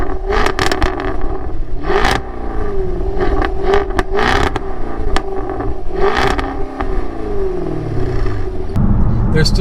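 A 2015 Jaguar F-Type R sports car with its exhaust note revving repeatedly, loud and near, rising and falling through several throttle blips with rumbling crackle between them.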